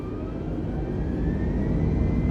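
Aircraft engine spooling to takeoff thrust in Microsoft Flight Simulator 2020, a steady loud roar with a faint rising whine that builds slightly over the few seconds, no voices.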